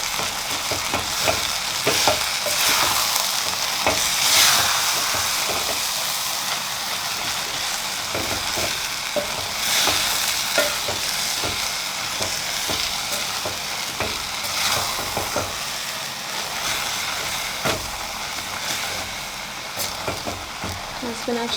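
Creamy spinach cooking in a pan, a continuous frying sizzle broken by the scrape and clatter of stirring, with no one speaking.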